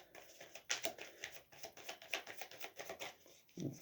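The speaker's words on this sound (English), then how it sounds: "I want to shuffle." Tarot cards being shuffled by hand, a rapid papery patter of riffling cards in uneven bursts, close and fairly quiet, with no talking over it.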